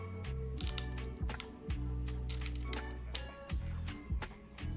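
Keys clack in quick irregular bursts as someone types on a newly built Cloudline TKL mechanical keyboard, the crisp taps close and distinct over a low steady background hum.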